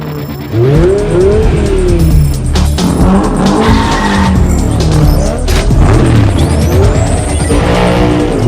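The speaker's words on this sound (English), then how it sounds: "we'll roll a Nissan GTR Gran Turismo 7 Cup" A Nissan GT-R race car in Gran Turismo 7 roars loud and near, its engine revving through gear changes while tires squeal and skid almost continuously over the stretch.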